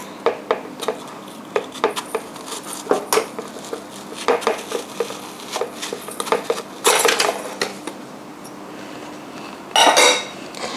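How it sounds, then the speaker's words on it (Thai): A whisk or utensil beats three eggs with sugar in a bowl, giving quick irregular clinks and taps against the bowl, with occasional louder bursts of rapid clattering, close and clear with no talk. "เดี๋ยวเราตีไข่กับน้ำตาลให้พอเข้ากันนิดนึงนะคะ"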